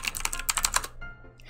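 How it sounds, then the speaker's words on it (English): Quick typing on a computer keyboard: a rapid run of about a dozen crisp key clicks close up, then stopping abruptly into near silence. "So I'm just gonna straight up type in Wizard101 and see where that takes us."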